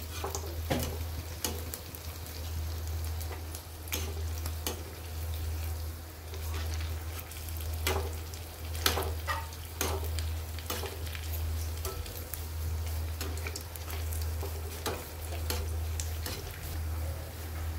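Stuffed mirchi vada deep-frying in oil, a soft steady sizzle over a constant low hum, broken by regular sharp ticks and clinks of a utensil against the pan, fairly quiet and without voices.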